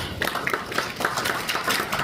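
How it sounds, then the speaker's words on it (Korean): An audience at a peace forum in a National Assembly conference room applauds to welcome a speaker, with steady, dense clapping from many hands throughout. "여러분 박수로 맞아주세요"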